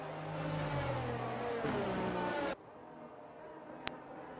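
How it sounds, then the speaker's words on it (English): F1 cars in a racing video game scream past at a corner, a high engine whine sweeping down in pitch before cutting off abruptly, leaving a quieter hum and one brief sharp tick. "You can see the many F1 cars head around this corner now."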